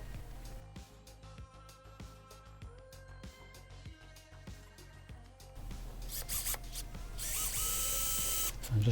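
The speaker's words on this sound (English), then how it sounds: "I'm just drilling the hole for the screw that'll hold the base plate on." A small hand drill boring a screw hole in a Matchbox No 33 Ford Zephyr toy car whirs in short repeated bursts with clicking mechanical ticks, then a louder continuous whine of drilling builds toward the end.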